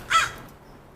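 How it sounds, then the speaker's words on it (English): A crow gives a single loud caw near the start, outdoors, then fades into quiet background; no one speaks. "That bird just doesn't want to stop."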